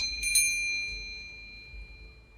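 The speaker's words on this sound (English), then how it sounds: "you hear the ding of the bell as Rudy re-enters." A single bright bell ding rings out near the start, its clear tone slowly fading over a low background hum.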